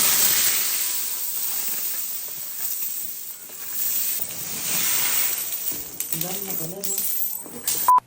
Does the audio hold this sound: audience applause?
no